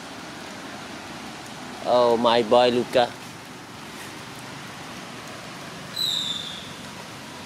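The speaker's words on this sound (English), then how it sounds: "it's raining." Steady rain falling outdoors makes a soft, even hiss throughout, with a voice briefly speaking over it.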